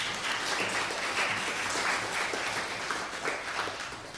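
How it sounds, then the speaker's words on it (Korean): A church congregation at a Sunday Lent service applauds together, a dense, even round of clapping that holds steady and tapers slightly at the end. "잘 다녀오시라고 박수하겠습니다."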